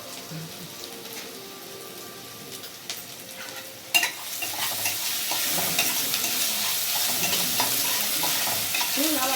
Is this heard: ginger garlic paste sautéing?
yes